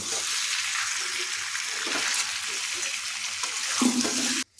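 Paneer masala sautéing in a pan gives a continuous hissing sizzle with faint stirring scrapes, ending abruptly.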